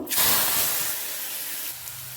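Bottle gourd peels hit hot oil in a wok with a loud burst of sizzle that settles into a steady, close frying hiss.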